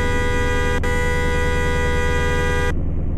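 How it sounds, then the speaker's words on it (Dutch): Horn of an Amsterdam priority emergency vehicle blaring as a loud, steady electronic tone, broken by a split-second gap early on before holding and then cutting off abruptly. "Dit is de toeter."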